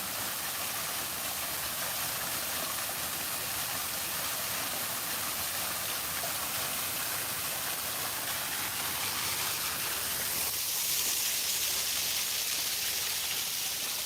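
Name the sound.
man-made waterfall in Scovill park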